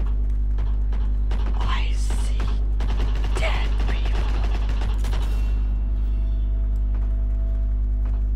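Gunfire in the video game Heroes and Generals: a few sharp shots and short bursts around the second and fourth seconds over a constant low electrical hum, fading into quieter game noise.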